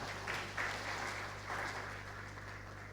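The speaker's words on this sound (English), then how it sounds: "May we give her another round of applause" Audience applause at a national migrant dialogue opening ceremony: soft, fairly distant clapping from a crowd, steady with slight swells, under a low hum, no talk.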